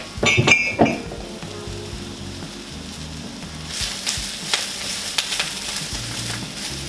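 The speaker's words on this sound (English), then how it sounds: "put the artichokes in the pan, so they cook down nice and slowly with them" Clinks of a utensil against a pan open the clip, then a soft sizzle of artichokes and greens frying continues with occasional stirring scrapes.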